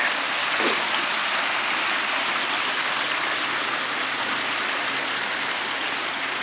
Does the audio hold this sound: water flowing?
yes